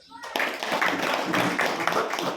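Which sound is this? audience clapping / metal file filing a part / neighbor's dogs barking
audience clapping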